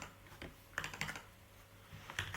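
Code being typed on a computer keyboard, soft scattered key clicks in short bursts over a low steady background hum, fairly quiet and close.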